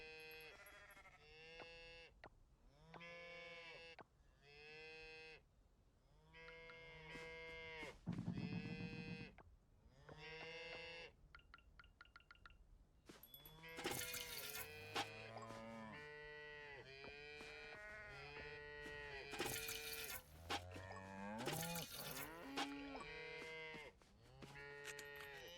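Several cows moo repeatedly inside a barn in the video game Coral Island, with long, loud overlapping calls that grow busier and denser toward the end.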